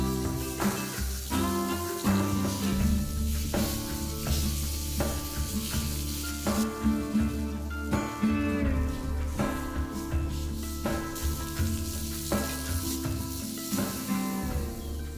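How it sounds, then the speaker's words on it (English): Bacon-wrapped dove breasts sizzle on a grill directly over hot coals, a steady crackling hiss heard continuously, mixed with sustained tonal background sound. "now I'm gonna grill them directly over the coals, turning them as needed"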